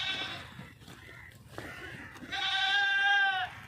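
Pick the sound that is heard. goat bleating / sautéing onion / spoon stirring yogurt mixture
goat bleating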